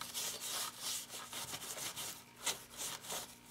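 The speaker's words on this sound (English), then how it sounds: "I'm just going to be wiping it and kind of rubbing it throughout my page." Wet teal paint being wiped and rubbed across a mixed media page, a soft, close, continuous scrubbing and swishing in uneven strokes, quiet and without talk.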